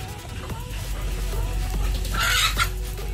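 Native chickens clucking softly while feeding, with a few scattered cackles and a louder burst of clucking near the end over a low steady rumble.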